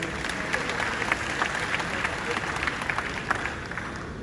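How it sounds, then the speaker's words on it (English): A crowd applauds steadily, dense clapping from many hands sustained throughout. "Please can we give them a round of applause, please."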